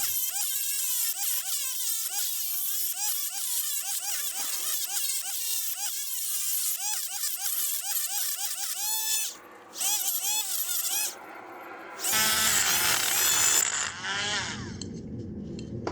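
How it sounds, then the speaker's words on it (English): High-pitched Dremel rotary tool whining steadily while smoothing a metal flag mount for a Sur Ron Light Bee electric bike, its pitch wavering under load, then cutting out briefly before harsher grinding near the end. "and then I'm just gonna clean it up with the Dremel."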